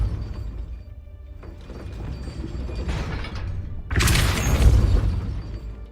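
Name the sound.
Depulso spell effect in Hogwarts Legacy video game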